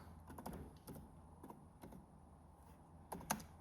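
Laptop keyboard keys tapped in short bursts as a networking command is entered, light close clicks with brief pauses between groups of strokes.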